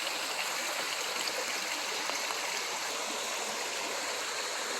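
A waterfall at a lake in wild country pours with a steady, loud, broadband rush that stays constant throughout, with no voices.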